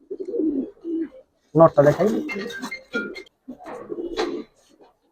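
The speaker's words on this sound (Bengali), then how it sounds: "দুজনই ডাকতেছে একটা মা একটা মেয়ে" Two Giribaz pigeons, a mother and her daughter, coo in low throaty bursts, several calls close by in a quiet room, interspersed with someone talking.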